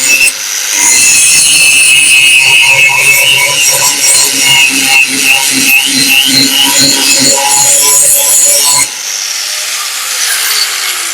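A Bosch GWS700 angle grinder grinds down welds with a loud, high whine and a rasping, pulsing scrape against the metal, then the load drops away and the motor is left spinning down more quietly.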